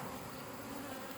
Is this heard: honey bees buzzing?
yes